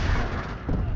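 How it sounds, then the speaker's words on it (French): A frag grenade blast in Call of Duty, a loud, dense boom filling the whole second with rumbling low-end energy and a slight swell near the end, with no talking over it. "Grenade frag."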